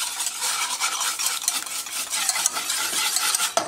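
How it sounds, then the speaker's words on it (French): Eggs and sugar for a lemon cake being whisked briskly in a bowl, a steady close scraping and rattling that runs without pause and with no one speaking. "Les œufs et le sucre. Et là je vais fouetter environ, allez, 10 secondes."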